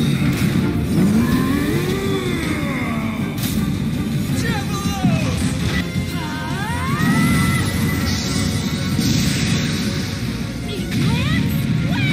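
Beyblades spin and collide in a battle arena, producing a loud, continuous whirring, scraping roar with repeated rising and falling sweeps and sharp hits throughout.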